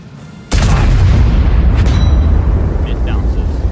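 The SU-5 self-propelled artillery gun in World of Tanks fires a single loud, sudden blast that rolls into a sustained, heavy rumbling roar lasting several seconds.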